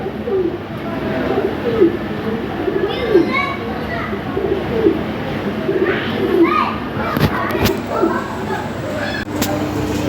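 Lahori Sirazi pigeons, including a light-coloured blue-bar male, coo steadily in overlapping, repeated low calls throughout, with children's voices and other bird sounds in the background.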